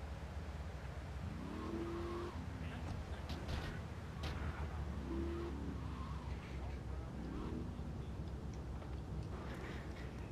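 Car engine in GTA III driving and revving in repeated rising surges, with tire skids and a steady road rumble underneath, continuous and fairly close, while a person talks over it.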